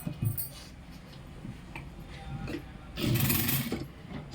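A sewing machine stitching a petticoat, giving soft intermittent mechanical ticking and whirring that swells into a louder, denser run of stitching near the end, close by and without talk.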